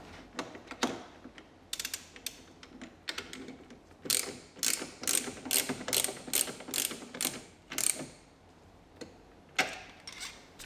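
A hand ratchet snugs up wheel bearing bolts on an Audi Q7, Touareg or Cayenne, giving close, crisp bursts of rapid clicking in irregular strokes with short pauses between.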